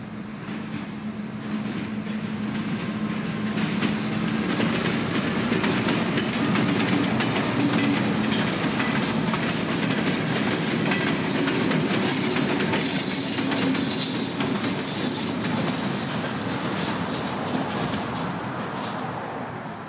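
A CSX freight train pulled by two engines rolls past steadily for the whole stretch, its wheels clicking rhythmically over rail joints with a constant heavy rumble, close and loud, with no talk.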